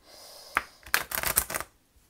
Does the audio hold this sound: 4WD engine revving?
no